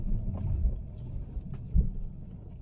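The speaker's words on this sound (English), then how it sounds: "The engine's pretty smooth." Fiat Panda 4x4 engine driving off-road over bumps, a low steady rumbling drone with a couple of heavier thumps, fairly close and without talk.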